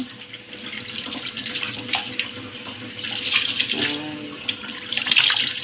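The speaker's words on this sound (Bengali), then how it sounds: "এই যে চালটা ধুয়ে নিচ্ছে" Rice being washed under a running kitchen tap: water streams steadily while grains are swished and splashed by hand, with irregular sloshing bursts close by and no voices.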